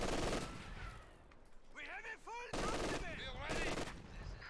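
Machine gun fire in a World War II strategy game: dense rattling bursts of gunfire under a commentator's talk.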